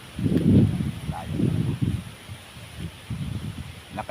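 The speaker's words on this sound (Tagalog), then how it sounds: "Lakas ng hangin guys, mga kakugi," Strong wind gusts through coconut palms, a low rushing roar that swells and eases in uneven waves, close to the microphone.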